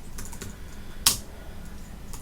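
Keystrokes on a computer keyboard while writing an HTML file in a code editor, a quiet run of light taps with one sharper, louder click near the middle, heard close and alone.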